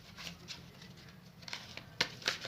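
Tarot cards being shuffled by hand give soft, scattered papery riffles and taps, close and quiet, with two sharper flicks near the end.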